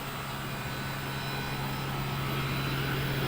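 A large Carrier air conditioning unit, solar-powered, running outdoors; a continuous loud, even roar of fan and airflow with a steady low hum, no talk.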